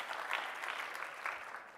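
Conference dinner audience applause, a brief burst of moderate clapping from a crowd, fairly close and without talk.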